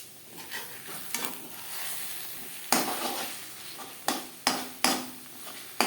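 Egg and potato bhujia sizzles in a pan over a medium flame while a utensil stirs it, with soft frying hiss and several sharp scraping strokes near the end, close and fairly loud.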